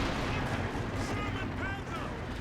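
Tank guns firing in the strategy game Company of Heroes 2, with booming shots over a dense wall of battle noise and a steady background rumble, with a commentator talking over it.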